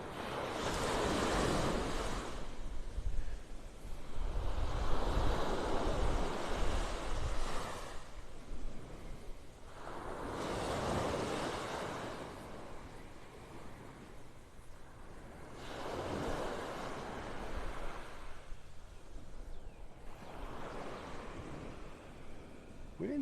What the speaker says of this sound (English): I think it's neat being out on the beach like this.